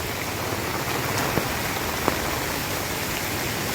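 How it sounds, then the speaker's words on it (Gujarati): Steady rain falling outside a temple, a dense even hiss of drops on surfaces with a couple of sharper drips, no voices. "આ વરસાદમાં તો કોણ નીકળે"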